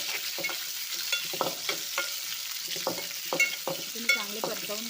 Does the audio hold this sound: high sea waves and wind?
no